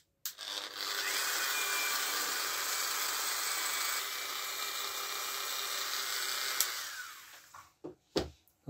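A small power drill whines steadily for about six seconds while boring holes in brass balcony parts, with an oiled bit, then spins down, followed by a few quiet clicks and handling taps close by.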